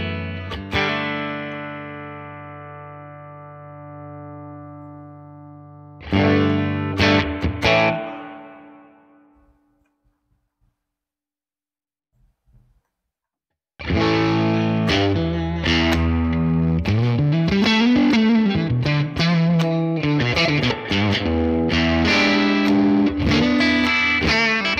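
An electric guitar played through the Neural DSP Morgan SW30 amp plugin gives distorted chords and riffs. A ringing chord fades out, a short burst follows, then near silence before sustained, loud playing resumes.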